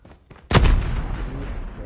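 A single loud sniper shot in the game Honkai Star Rail cracks out abruptly, then rolls into a long, heavy rumbling echo that lingers after faint game sounds.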